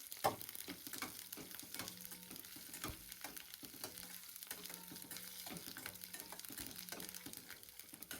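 Sesame seeds popping and crackling in hot oil with green chillies, a steady close sizzle dotted with sharp little pops throughout, no voices.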